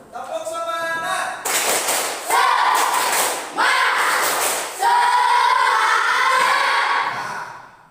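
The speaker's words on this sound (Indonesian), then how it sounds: "Ya, berdiri semua. Tepuk semangat." A standing group performs the rhythmic 'tepuk semangat' cheer clap, bursts of patterned clapping in several phrases mixed with chanted voices, loud and lively.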